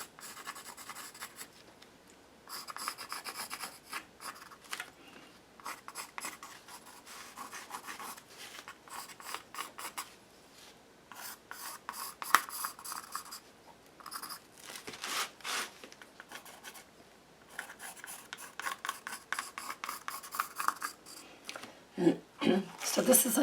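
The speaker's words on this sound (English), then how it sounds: "So this is a charcoal pencil that I'm playing with." A charcoal pencil scratches and rubs across paper during collage work, with a steady run of close, dry strokes of varying pressure.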